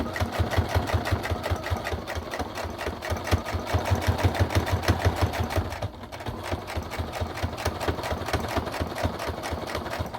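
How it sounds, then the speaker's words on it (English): A sewing machine runs steadily as it top-stitches an eighth of an inch from the edge of a small keychain, a close, continuous rapid whirring hum that dips briefly and then carries on. "I'm sewing 1/8 of an inch. I'm going super close to the edge"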